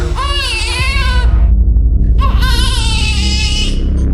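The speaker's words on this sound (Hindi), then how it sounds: "घर में पिछले 4 घंटे से बच्चे की रोने की आवाज आ रही" An infant wails loudly in two long cries separated by a brief pause, over a constant low rumble.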